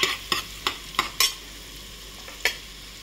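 Onion, garlic and ginger hitting hot oil as a tempering for a two-kilo meat dish, with a soft frying hiss under a series of sharp clinking spoon strikes in an irregular rhythm, no voices.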